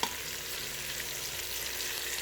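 Sausage frying in an Instant Pot while Toscana soup is being made, giving a steady, fairly quiet sizzle that holds evenly throughout, with one small click at the very start.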